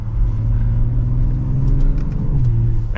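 Steady, loud engine drone from inside a 2023 BMW X6 xDrive40i M Sport with its standard engine, a smooth low hum that rises slightly as the car accelerates, heard without talk.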